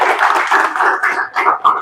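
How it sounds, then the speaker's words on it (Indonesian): Students in a classroom clap for a discussion group, a loud, close burst of uneven clapping from a small group that swells and dips in short pulses. "kasih tepuk tangan dulu untuk kelompok 5"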